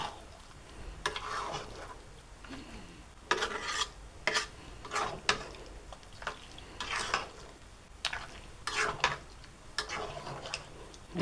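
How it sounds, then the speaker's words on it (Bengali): Sweetened olive pickle being stirred in a pan over low heat, giving a run of irregular scraping strokes with a faint sizzle between them, close and moderately quiet. "এই সময় অনবরত একটু করে নেড়ে দিতে হবে"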